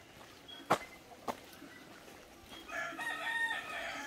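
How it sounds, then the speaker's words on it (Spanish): Faint chickens and chicks cluck and call in the distance, with a couple of sharp taps early on, all fairly quiet outdoors in light drizzle. "Ahí hay pollitos, ¿eh?"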